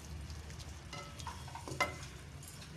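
A chowmein sauce with vinegar and chili sauce is stirred in a pan over medium flame, giving a faint sizzle with soft scraping and a small clink from the utensil.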